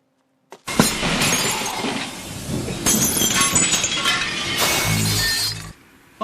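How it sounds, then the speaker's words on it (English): A glass slipper shatters loudly in a staged Cinderella comedy, a sharp crash followed by tinkling, scattering shards that ring on for several seconds before cutting off. "I forgot you said it was made of glass. The shoe is broken, alas, alas."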